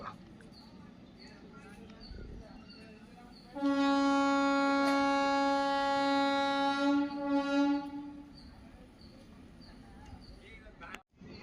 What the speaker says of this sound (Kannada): ನಮ್ಮ ರೈಲು ಚಾಮರಾಜಪುರ ರೈಲು ನಿಲ್ದಾಣದಿಂದ ಹೊರಟಿದೆ